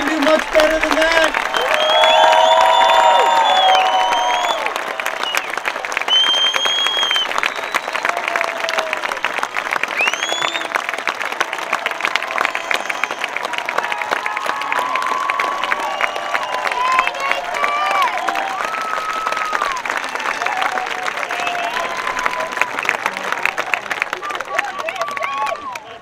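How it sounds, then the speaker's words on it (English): Audience at a high school graduation ceremony applauding for the graduates, dense sustained clapping mixed with cheers and whistles that fills the whole stretch without pause. "how about a big round of applause for our graduates?"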